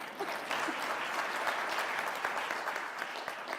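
Steady, dense applause from an audience at a City of Atlanta signing day for a youth employment program, a continuous crackling wash of many hands that stays fairly even and somewhat distant throughout.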